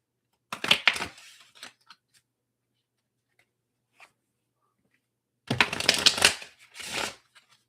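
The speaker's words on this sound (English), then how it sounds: "let me just shuffle them." A deck of 22 major arcana tarot cards is shuffled by hand in two quick riffling bursts, close and crisp, separated by several seconds of near silence with a few soft taps.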